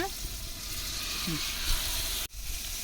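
Tomatoes, green chili, mint and coriander leaves sautéing in a pot for traditional dum biryani cooked over a stove, a steady soft sizzle and hiss throughout with a brief clunk near the end.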